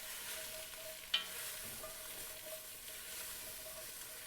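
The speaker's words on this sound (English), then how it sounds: "Give it a nice stir." Onions sizzle quietly in a hot pan over lowered heat as they are stirred, with one sharp scrape of the utensil near the start and a soft, steady frying hiss underneath.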